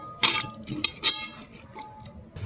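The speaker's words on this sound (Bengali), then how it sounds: "এবার আমরা চিকেনটাকে ভালো করে ধুয়ে নেব" Chicken pieces being rinsed in a bowl with water, giving brief splashes and drips followed by a quieter trickle, faint and close, with no one talking.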